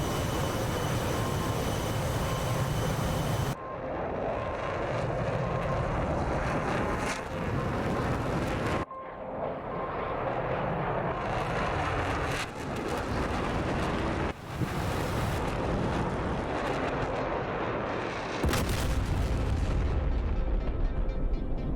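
In DCS World, a bomb drops on a hangar, followed by heavy blasts and the roar of a combat jet sweeping past: loud, rumbling bursts cut by sudden gaps, then a final rising surge.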